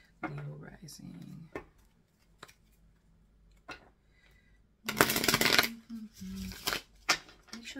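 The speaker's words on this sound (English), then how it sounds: "I need to shuffle pretty well" Tarot cards are shuffled up close in quick riffling bursts with soft papery slaps between them, while a person speaks quietly in the background.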